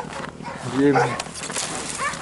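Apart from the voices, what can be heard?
dogs barking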